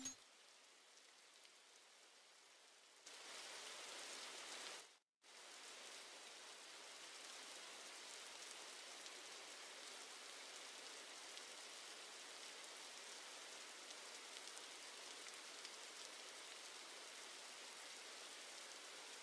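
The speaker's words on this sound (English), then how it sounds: "you can make the rain louder" Steady rain ambience in a Roblox game, a soft even wash of falling rain that cuts out briefly once, then continues unbroken at a quiet level.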